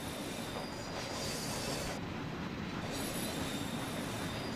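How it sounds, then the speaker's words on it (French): A tram ride in the game Mafia plays as a constant loud rumble of rolling rail wheels, with a high squeal of wheels on track rising over the din for a moment, and no voices. "Me voilà dans le tramway."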